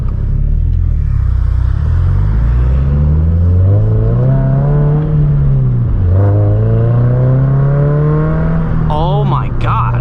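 A 2022 Subaru BRZ with a MAPerformance exhaust revs loud and close, its deep throaty note rising and falling through two long sweeps over steady rumble.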